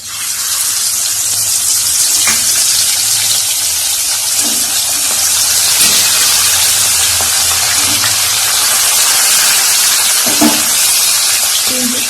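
Fish pieces fry in a wok, a loud, steady hiss close up that runs without a break, with a few soft clinks scattered through it.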